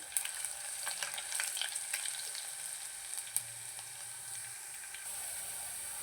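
Dried red chillies frying in oil for tomato pickle, a continuous close hissing sizzle with scattered crackles and a few faint clinks, with no talk.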